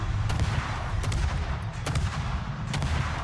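Armor-piercing naval shells strike an enemy warship in a naval combat video game, a dense continuous rumble of cannon fire with several sharp impact cracks standing out, loud and without speech.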